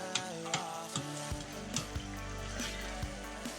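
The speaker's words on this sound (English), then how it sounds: "I'm going to take the lid off. Just kind of set it aside. Give it a good stir." A pot of Texas-style chili with hamburger meat is stirred, giving faint, soft simmering and a few light scraping knocks of the spoon, with no talking.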